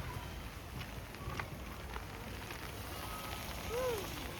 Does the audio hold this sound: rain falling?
yes